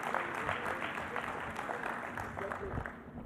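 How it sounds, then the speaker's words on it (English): An audience claps at a launch event for a testing service, moderate and steady throughout the short stretch with some voices mixed in. "Let's give that a round of applause"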